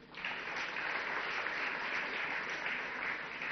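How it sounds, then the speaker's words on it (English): A crowd applauds steadily throughout, a dense even wash of many hands clapping at a distance. "Please give your warm round of applause."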